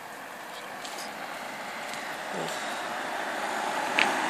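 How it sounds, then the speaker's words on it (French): Cars driving up and down a street at night, a continuous faint rumble of passing traffic heard from a distance with no voices. "Il y a plein de voitures là qui descendent et qui montent."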